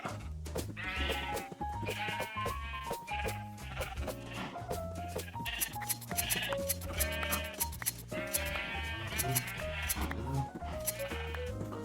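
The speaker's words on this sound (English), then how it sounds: "Perfect. All the sheep have been sheared." Sheep bleat repeatedly while being sheared in the Minecraft video game, a run of wavering, pitched bleats that come one after another over a steady low musical background, with no talking.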